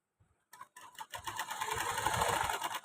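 A domestic sewing machine stitching cloth, starting after a brief pause and running as a steady, close whirring drone that grows slightly louder toward the end, with no voices.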